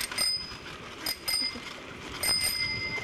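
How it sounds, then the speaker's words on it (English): A bicycle bell rings out during a group ride, with three separate bright rings spaced about a second apart against quiet outdoor background noise. "Corey, get ready with your bell"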